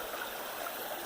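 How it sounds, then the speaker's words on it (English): A waterfall flows somewhere below, a steady broadband rush of water with a gurgling, stream-like texture, continuous and moderately distant, no voices. "Waterfalls down there."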